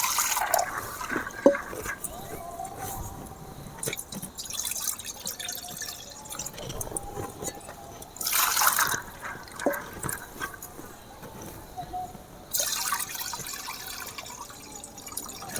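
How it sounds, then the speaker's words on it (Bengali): Soaked chana dal is rinsed in a bowl of water, with soft sloshing, trickling and dripping that swell in a few louder splashy bursts, close and fairly quiet throughout. "প্রথমে আমি ছোলার ডালটা ভালো করে দুবার ধুয়ে নেব।"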